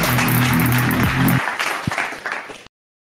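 A crowd claps and cheers loudly with music playing underneath, the applause fading out before a sudden cut to silence.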